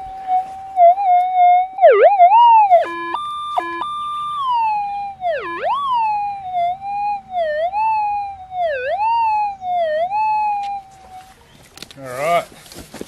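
A metal detector's steady electronic tone wavers and warbles in pitch over a big buried target, dipping and rising repeatedly as it sweeps, then cuts off into brief rustling.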